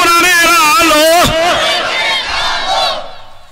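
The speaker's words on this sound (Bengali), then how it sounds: "হাত তুলে একটু শোনার জন্য তকবীর চেয়ে শোনান। লিল্লাহে তাকবীর" Crowd at an Islamic sermon shouting the takbir in unison, a loud, close chorus of many voices rising together, then trailing off into a fading swell of shouting.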